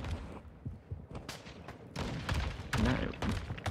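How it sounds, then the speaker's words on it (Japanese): Gunfire in Call of Duty Modern Warfare II, a scatter of sharp shots and bursts that grows denser and louder toward the end, with no one speaking. "この銃声はどっから。"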